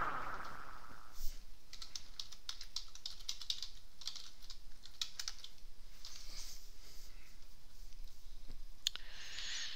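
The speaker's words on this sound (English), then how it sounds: "Typing awkwardly while I'm recording." Fingers tap quickly and unevenly on a computer keyboard, a soft scatter of clicks heard close and faint in a quiet room.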